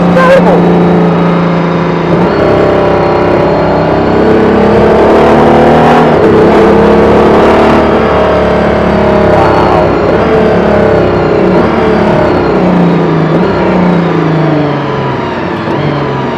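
An Aston Martin Valkyrie engine drives on the road with a loud, sustained high-pitched drone. Its pitch climbs and falls through gear changes and revs, and it stays close and dominant throughout.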